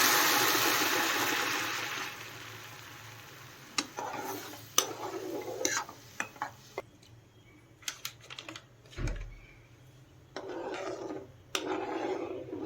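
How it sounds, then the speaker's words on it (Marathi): A spoon scrapes and stirs sabudana kheer with hot milk in a pot: a soft sizzling wash at first, then intermittent scraping strokes and light clicks against the pot, fairly close and quiet. "आता ह्याला असंच हलवत हलवत शिजवून घ्यायचं आहे"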